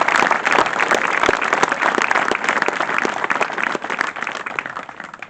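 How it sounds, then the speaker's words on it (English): A crowd at a charity outdoor event applauds a sportsman's club, loud, dense clapping that holds steady throughout before easing slightly at the end. "Big round of applause for the Freiburg Sportsman's Club."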